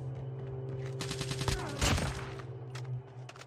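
Bursts of rapid video game gunfire from Call of Duty Mobile crackle in quick volleys, moderately close, over a low steady background hum.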